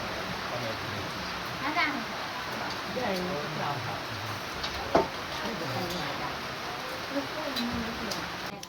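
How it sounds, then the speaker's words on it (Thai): Heavy rain falls at a home in a rural Lao-speaking area, making a constant broad hiss and patter that lasts the whole time, with voices talking over it. "ฝนตกหนัก"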